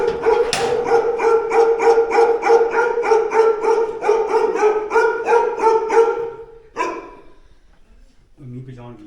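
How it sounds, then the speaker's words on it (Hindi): In a mountain village in Azad Kashmir, a dog gives a long, steady series of rhythmic, loud barks, close by, before it breaks off, with a brief fainter vocal sound at the end. "ये कौन सी नस्ल के कुत्ते हैं? सर ये लद्दाखी है"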